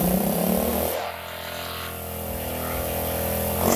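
A Honda Supra motorcycle engine with a suspected faulty voltage regulator is throttled up close. Its loud, steady running note rises and falls as the revs change, with no talk.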